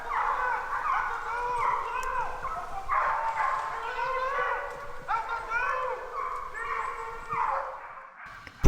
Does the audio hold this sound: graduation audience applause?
no